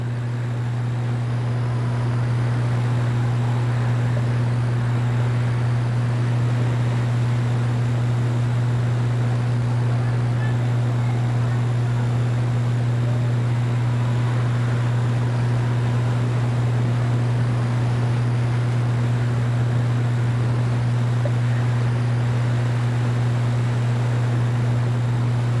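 Pure stock race cars running bumper to bumper at Seekonk Speedway, a loud continuous engine drone with a steady low hum, no breaks across the whole stretch.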